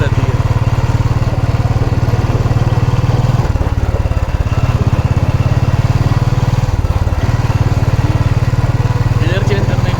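A Royal Enfield Bullet motorcycle engine thumps loud and steady while riding, its low drone briefly dipping twice during an attempted gear change.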